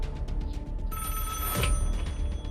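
A telephone bell rings insistently, a loud, bright metallic trill that continues throughout with no voices.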